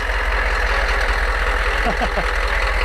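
A heavy military vehicle engine starts and idles nearby with a steady, deep rumble, while faint voices come through briefly underneath.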